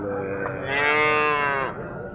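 At the Abu El Matamir livestock market, a single calf or cow gives one long, loud moo that swells and fades over a low background murmur of the market.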